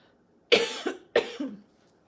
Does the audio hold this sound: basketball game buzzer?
no